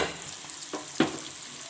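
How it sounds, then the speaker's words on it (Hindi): Onions sizzle gently in a pan of hot oil just after cumin, a soft steady fry with a couple of brief stirring knocks, close and fairly quiet with no talking. "अब मैं इसमें डाल दूँ प्याज"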